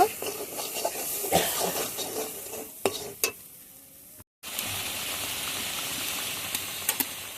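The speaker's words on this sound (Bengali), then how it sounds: "পেঁয়াজ রসুনের সঙ্গে মশলাটা ভালোভাবে কষিয়ে নেব" Spice paste of chili, cumin and coriander powders fries with onion and garlic in a pan, a continuous close sizzle and hiss broken by stirring clatters, with a brief drop to silence midway before the frying resumes.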